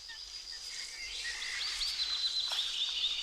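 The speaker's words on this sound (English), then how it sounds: "Silence the birds." Birds singing outdoors in the distance, a scatter of thin, high warbling calls and chirps layered over a quiet background, with no one speaking.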